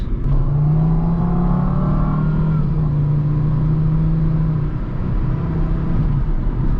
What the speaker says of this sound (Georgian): როგორც წინა ვოლვოში აქაც მინდა უბრალოდ გავჩუნდე და ამ ძრავს უსმინო რა